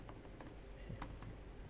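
Quiet keystrokes on a computer keyboard entering router configuration commands, a light, irregular patter of soft clicks, faint and without talk.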